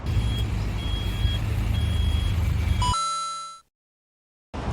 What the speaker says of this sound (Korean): 아까 우리 뒤에 후진할 때 삐삐삐삐 들어가는 이런 소리들도 전부 다 이 기본 모델에 들어가 있는 옵션입니다